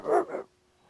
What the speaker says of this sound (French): Il y a toujours ce chien à l'arrière, hein.